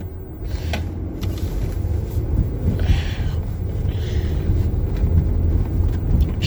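A car drives along empty streets during a morning commute under lockdown, a steady interior road and engine rumble with faint clicks and rattles, no voices.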